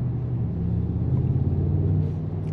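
Low, continuous engine drone from a Mercedes-AMG GT63 S driving in Sport Plus mode, a throaty rumble steady throughout and heard from inside the car.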